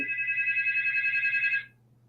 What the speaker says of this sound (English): Why are you calling my phone?